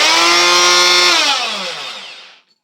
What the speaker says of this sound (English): Now this is reciprocating. This is a very loud tool, by the way.